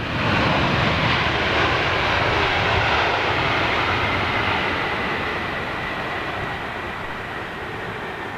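Large airliner G-BNLY in Landor livery arriving at a London airport, a loud, broad roar of jet engines that holds steady and then slowly fades, with no voices.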